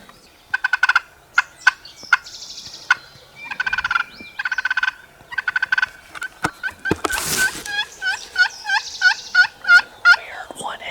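A series of loud, close hunter's turkey calls during a spring gobbler hunt in Pennsylvania, sharp yelps and clucks repeated in quick bursts, building into a rapid run of calls near the end.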